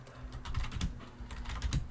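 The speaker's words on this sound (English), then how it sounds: "You can type something such as, hello, I'm typing this" Typing on a computer keyboard, a quick irregular run of soft close key taps and clacks at a low level, with no voices.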